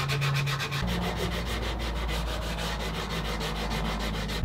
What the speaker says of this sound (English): good old hand sanding.